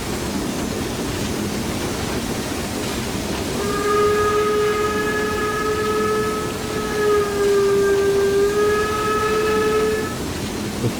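A BR86 steam locomotive whistle in Train Simulator 2019 sounds as a long, loud, steady chord of about six seconds, wavering slightly in pitch, over a constant rumbling rail background.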